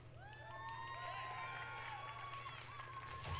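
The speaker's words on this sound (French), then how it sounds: "Il y a 3 personnes dans la salle qui crient." A handful of people shouting and whooping in a conference audience at a video game industry event, sliding high cries over a low hum, with light scattered clapping around them.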